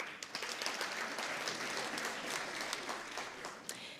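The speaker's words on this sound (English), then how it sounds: "Big round of applause." An awards-night audience at the National Research Excellence Awards applauds the finalists, a broad, even wash of many hands clapping, moderately distant and sustained for the whole stretch.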